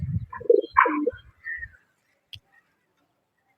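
A racing pigeon gives a short series of low coos and soft throaty calls at close range, followed by near silence.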